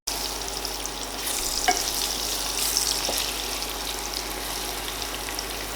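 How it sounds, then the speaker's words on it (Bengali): Cut potatoes frying in salted oil make a continuous close sizzle with a bright crackling hiss and two or three faint clicks of a utensil against the pan. "তারপর কেটে রাখা আলুগুলোকে ভাজবো।"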